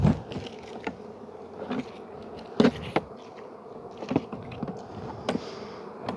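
A honeybee colony is opened for a hive inspection, with a steady close buzz of many bees broken by sharp taps and clicks from frames being handled, and no voices.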